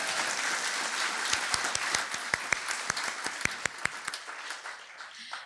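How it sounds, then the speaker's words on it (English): An audience at an alumni fellow award ceremony applauds. The applause is a steady wash of clapping, with sharper individual claps standing out near the middle before it thins and fades at the end. "Oh, that needs an applause right there."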